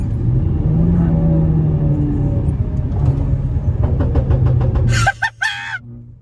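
A Renault Megane RS engine rumbles loudly and steadily, then downshifts into a short burst of sharp exhaust pops and crackles.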